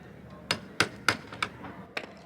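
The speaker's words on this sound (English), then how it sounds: "Seems to be easier to undo the drill and then just try and hammer it out." Hammer blows on an old bolt stuck in a narrowboat fitting: five or six sharp metallic strikes at an irregular pace, close and fairly loud, with no talk over them.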